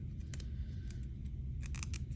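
Athletic tape peeled apart down the middle for thumb taping, a soft close-up tearing and crackling rasp with a few brighter ripping bursts near the end.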